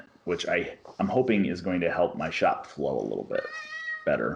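A cat meows briefly near the end, heard under a person talking continuously.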